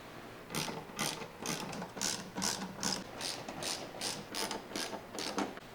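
A hand ratchet with a T15 Torx bit backs screws out of a truck tailgate, making quick, rhythmic clicking bursts, roughly a dozen evenly spaced pulses, close up and fairly quiet, with no talking.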